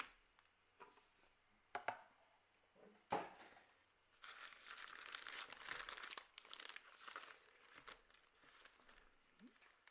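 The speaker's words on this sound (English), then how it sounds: "Like to hear the sound of boxes and packs opening." Trading card boxes and foil packs are opened close by, with quiet crinkling, sharp tearing snaps and rustling wrapper bursts in an otherwise hushed room.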